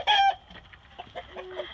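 A rooster gives a short, loud vocal burst at the start, then softer clucks and faint rustling follow, close by.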